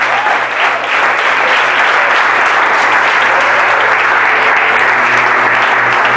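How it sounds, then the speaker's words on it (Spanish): Audience in a church service breaking into sustained, dense applause that stays loud and even throughout, a broad wash of clapping with faint crowd voices. "Si ese aplauso es para Dios, debe levantar este lugar"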